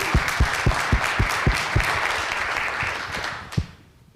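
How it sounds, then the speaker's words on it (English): Applause at a community talk on a filling station project and Main Street revival: a steady run of crisp, evenly spaced claps over a broad wash of clapping, fading out after about three and a half seconds. "One more round of applause for everybody that made this happen."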